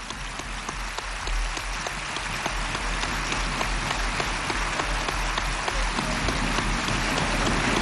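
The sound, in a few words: assembly applause adopting rules by acclamation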